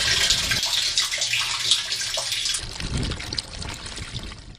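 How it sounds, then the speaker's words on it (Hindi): Polluted water from sewage and industry pours steadily into a water treatment plant, a continuous close splashing and trickling rush that stays loud throughout with no voices. "तलबा आलूदा पानी इस प्लांट में डालते हैं।"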